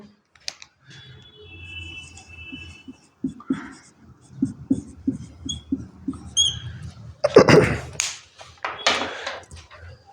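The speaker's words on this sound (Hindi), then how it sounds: "इस क्वेश्चन को मैं दोबारा लिख लेता हूं।" A math question being written out again, with scattered scratchy pen or marker strokes and taps on a writing surface in short irregular bursts, close and fairly quiet, with a few small clicks and bumps in between.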